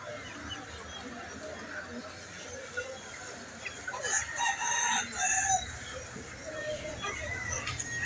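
Chickens and ducks at a wholesale and retail poultry market in Rayer Bazar, Dhanmondi, with a loud rooster crow rising midway over continuous clucking and busy market background noise.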